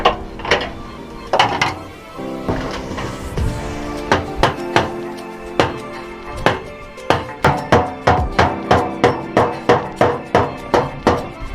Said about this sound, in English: If it don't fit, then you smack it with a hammer.